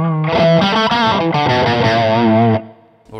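High-gain electric guitar through an MSG Twin Unicorn dual-channel distortion pedal, a loud, thick saturated riff of sustained chords that changes partway through and then cuts off, leaving a brief tail of noise.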